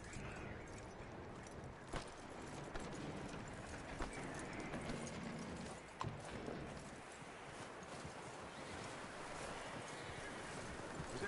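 A horse's hooves clip-clop steadily in Red Dead Redemption, faint and fairly even under a continuous wind-like ambient wash, with no talking.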